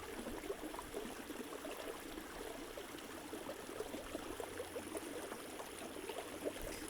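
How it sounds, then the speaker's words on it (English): Brook water flows over rocks in a soft, steady wash with faint trickling and bubbling detail throughout. "the water playing with the bubbles and brushing against the rocks"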